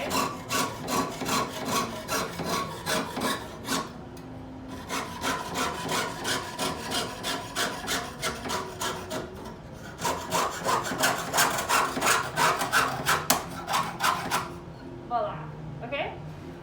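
A hand saw rasps back and forth through metal in steady, rhythmic strokes, pausing twice before resuming faster, with a voice speaking briefly at the end.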